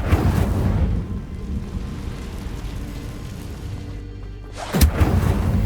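The Incendio fire spell cast in Hogwarts Legacy: a rumbling, whooshing burst of flame that roars steadily, then breaks off into a sharp second blast near the end, with no talk.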